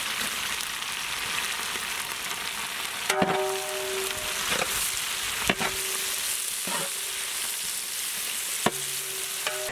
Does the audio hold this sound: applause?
no